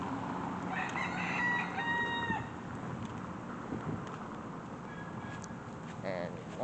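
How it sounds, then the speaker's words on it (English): A rooster crows in the background amid a busy outdoor hum of voices and street noise in Ybor City's historic district, with a faint cat-like meow near the end. "We can actually see a rooster"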